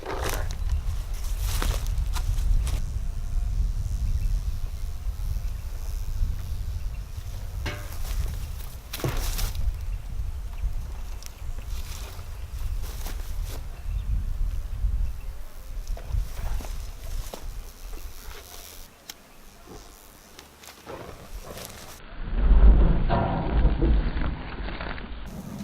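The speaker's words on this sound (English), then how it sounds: "Got a nice bit of a fireball there." A petrol-soaked fire pit sparks into a fireball, giving a sudden loud whoosh late on after a long stretch of low rumbling outdoor noise and shuffling.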